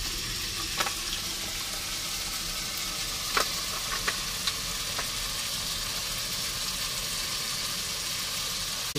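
Chicken pieces frying in a pot, a steady broad sizzle with a few sharp pops and clinks scattered through it, continuous and fairly loud.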